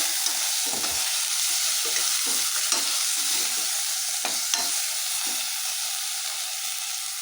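Turmeric being stirred into masala frying in a pan for home-style chicken biryani, a loud continuous sizzle with scraping stirs and occasional clinks of the utensil, close up and without speech.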